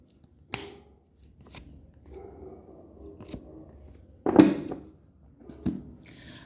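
Tarot cards handled up close, with a handful of crisp slaps and flicks spaced a second or so apart, soft rustling between them and one louder snap near the end.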